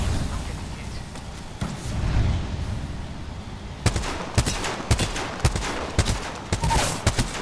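Gunfire in the Apex Legends battle royale game: a rumbling muffled stretch, then a rapid series of sharp shots in short bursts, fairly loud and close.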